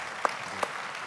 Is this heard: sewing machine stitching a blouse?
no